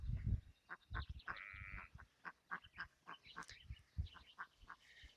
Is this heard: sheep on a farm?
yes